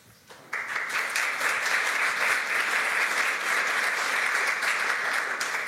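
An audience at an evening proptech event at the Opéra Garnier bursts into applause, sustained dense clapping that starts abruptly and holds steady throughout.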